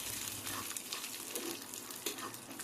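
Half a cup of peanuts fry in a little oil in a pan over a medium flame, giving a soft, steady sizzle with faint crackles and the occasional stir.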